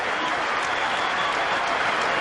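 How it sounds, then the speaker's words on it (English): A cricket crowd in Sharjah gives a standing ovation during an India vs Pakistan match in 1999, with dense, continuous applause that is loud and even throughout, carrying a broadcast-like texture. "getting a standing ovation from the crowd here in Sharjah"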